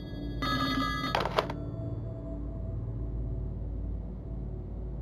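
Telephone in an escape room game rings in a short loud burst of bright electronic trills, then cuts off, leaving a low droning room hum underneath.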